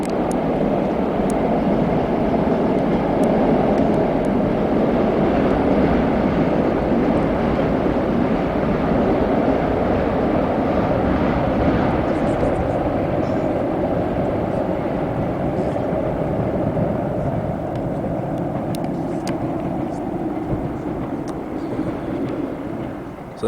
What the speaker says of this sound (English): So that's one of the trains I was on yesterday, one of ScotRail's Intercity 7 trains.